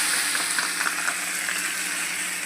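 Ground green chili and garlic paste dropped with cumin into hot oil sizzles and crackles loudly and steadily, a dense close frying hiss with no speech.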